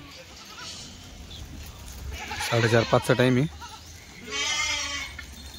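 Kathiawadi goats newly arrived from Gujarat bleating nearby in the late afternoon, one loud wavering bleat followed by a second, softer call, with someone talking over them.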